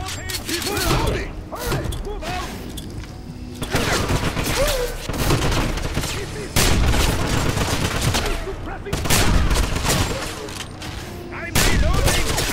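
Rapid bursts of game gunfire from Wolfenstein, loud and close, with repeated volleys and mechanical clatter between them, and voices shouting now and then in the background.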